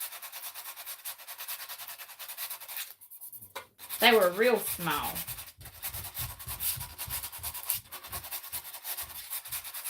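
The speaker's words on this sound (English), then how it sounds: "So I'm just sanding over those to get those even." Steady rasping scrub of sandpaper worked over small nail holes in a wooden crate, continuing nearly unbroken with a brief pause and a short spoken remark midway, close and moderately loud.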